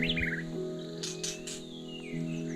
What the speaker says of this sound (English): Some beautiful birds singing.